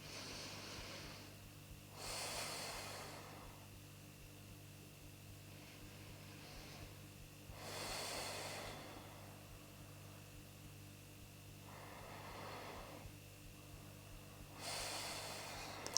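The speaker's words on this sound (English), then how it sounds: "Take 3 more deep breaths here on your own." Slow, deep breaths during a vinyasa yoga session, each long broadband inhale or exhale rising softly every five to six seconds over a steady low mains hum, close and quiet with no talking.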